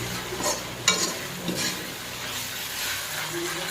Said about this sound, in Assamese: এইখিনি আলুখিনি প্ৰথমতে ফ্ৰাই কৰি লৈছে